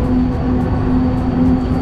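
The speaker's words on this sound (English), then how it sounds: "that's a tram, as always." A tram passes on a city street in Linz, Austria, giving a loud steady low rumble with a sustained tonal hum and no talk.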